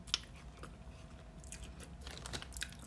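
A boiled potato from a seafood boil is chewed close to the mic in a mukbang, with soft, wet mashing and a few small crisp bites. The chewing is faint and continuous, and no one speaks.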